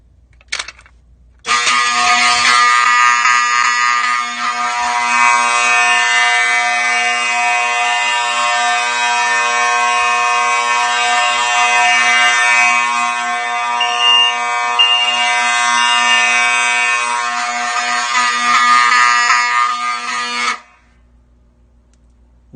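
A small fire alarm system in a home man cave sounds its test tone, a loud, steady electronic buzz-horn that holds continuously for about nineteen seconds before cutting off, with no talking.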